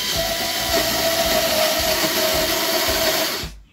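An INGCO 8V portable mini drill running at maximum speed gives a steady, close, high-pitched motor whine with a hissing edge, then stops abruptly near the end.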